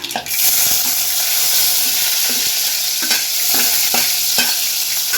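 Onion dropped into hot oil with popped mustard seeds sizzles loudly and steadily, with the crackle of stirring and a few sharp spoon scrapes against the pan, close up and with no voices.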